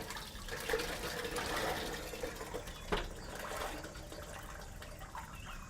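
Water rinses a septic tank effluent filter held over the open tank, a steady faint splashing and trickling wash running throughout with small irregular surges.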